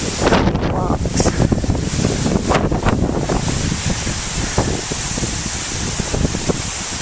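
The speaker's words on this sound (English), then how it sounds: "Some big old gusts coming through here." Powerful wind gusts from Tropical Storm Debby blast across the microphone in loud, continuous roaring bursts, with surging waves mixed into the noise.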